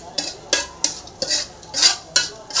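Fried bitter gourd and onions are stirred in a pan, a spoon scraping and clinking against the metal in quick regular strokes, close and clear with no talking.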